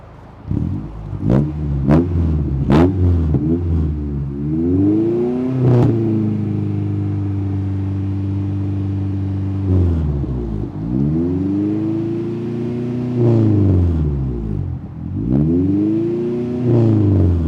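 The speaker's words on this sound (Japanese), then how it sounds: "みんな大好きマフラー音チェックいきますか" A Honda DC2 Integra Type R with a Spoon exhaust idles with a few sharp blips, then revs to about 3000 rpm and holds high, drops, and revs again several times, loud and close.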